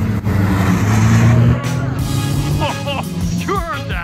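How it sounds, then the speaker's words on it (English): A car on a race track in an endurance race for cheap cars roars past with a loud, steady engine drone, then fades away as other engine notes rise and fall in the distance. "It wasn't long before Chuck was ripping fast laps and hustling the other cars on the track."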